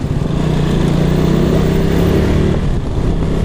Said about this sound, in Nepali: अनि मामाको गाडी आयो त यार